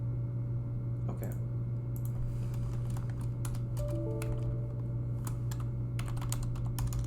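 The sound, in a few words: typing on a computer keyboard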